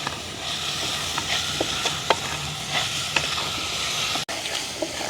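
Tomatoes and curry leaves sauté in a pan over a village cooking fire, a steady close sizzle broken by occasional stirring scrapes, with no talk.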